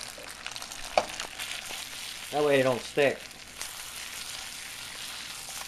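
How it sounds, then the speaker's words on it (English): Perogies fry in a pan with a steady hissing sizzle, with someone speaking briefly over it partway through. "you want to hear that sizzle"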